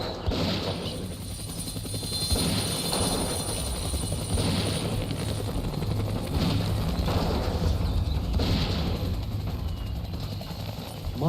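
A helicopter during a Himalayan mountain rescue mission, its steady rotor and engine drone holding loud and continuous throughout, a little rhythmic pulsing audible in the roar, with no speech.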